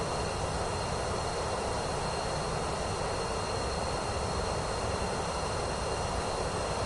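A Pilatus PC-24 business jet on landing approach toward Paris in Microsoft Flight Simulator 2024 gives off a constant, even engine and airflow roar that stays unchanged throughout, with no voices.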